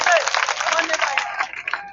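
A mushaira poetry recital audience gives a short burst of clapping, fairly close and fading toward the end, with voices mixed in.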